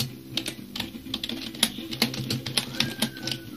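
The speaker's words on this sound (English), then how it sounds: "I don't know why I type that, I just like typing." Computer keyboard typing, a steady close run of light plastic key clicks with uneven rhythm and a few harder taps, heard alone without talk.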